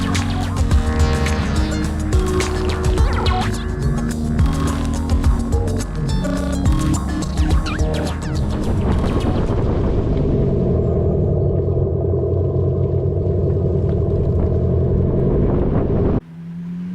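An all-new, fully electric Abarth car on the move gives a steady low rumble and road hum with wind noise across the microphone. No one speaks, and the sound runs continuously with fuller, busier activity early on.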